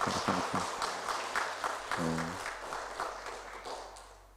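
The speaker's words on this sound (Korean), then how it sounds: "네, 박수 한번" A church congregation claps during a Sunday worship service, a brief burst of scattered applause that tapers off over a few seconds, with a voice briefly heard partway through.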